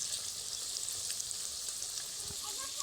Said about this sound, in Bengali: এইবারের বড়াগুলো খুব ভালোভাবে আমি ভেজে নিয়েছি